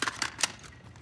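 Rifle magazine swap in Call of Duty: Modern Warfare, a quick run of sharp metallic clicks and clacks over about a second, close and fairly quiet, with no voice.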